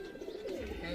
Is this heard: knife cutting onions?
no